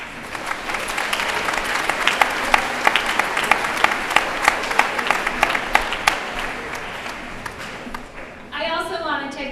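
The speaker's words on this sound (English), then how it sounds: "So give yourself a round of applause." A crowd at a school moving-up ceremony applauds graduating students, sustained clapping with sharp individual claps standing out, fading near the end as a voice begins speaking.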